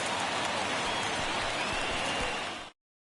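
Steady rain pours down on a baseball field at a Colorado game, a dense, even hiss that goes on unbroken and then cuts off abruptly near the end.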